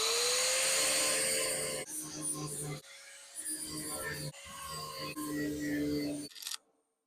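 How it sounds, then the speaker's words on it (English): An angle grinder works metal on a 1963 Chevrolet C10 cab, making a loud, close, high whine that dips and surges over several passes before it suddenly cuts off. "So let's just grind these down."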